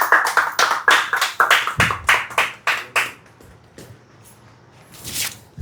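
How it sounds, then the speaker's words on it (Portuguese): Scattered congregation clapping at an evangelical church's Wednesday victory service, a dozen or so distinct close claps in an uneven rhythm that thin out and stop, leaving near-silence with one faint clap at the end. "Dê um aplauso ao Senhor"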